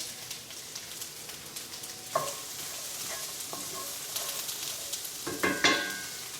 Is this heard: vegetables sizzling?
yes